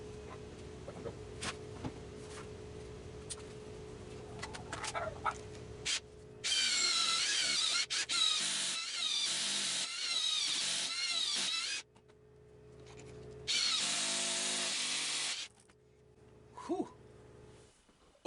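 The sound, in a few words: drilling pocket holes with a pocket hole jig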